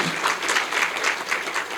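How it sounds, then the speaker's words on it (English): Steady audience applause for the First Lady of the Gambia at a charity foundation launch event, a dense, even round of clapping from a crowd. "Can we give her one more round of applause"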